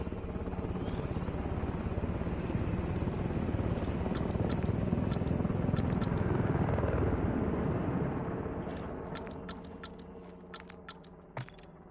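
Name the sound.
helicopter flying away, from the video game Call of Duty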